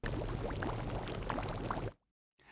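Bubbles noise sample from the Massive X synth noise generator, a continuous close burble of liquid with popping bubble sounds that stops suddenly, leaving a short silence before a faint return.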